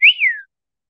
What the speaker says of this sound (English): he's gotten really, really good at the wolf whistle already.